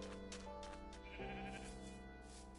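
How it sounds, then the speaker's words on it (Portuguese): A sheep in the video game Minecraft bleats in a few wavering, nasal calls over a steady layer of game music and ambience, with no talking. "tem uma ovelha aqui no buraco."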